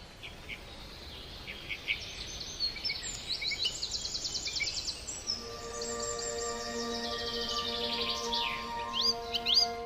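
Springtime birdsong at the start of the mating season: bright chirps and trills from several birds repeat for the whole stretch, moderately near, over a soft steady background with a faint sustained tonal hum in the later part.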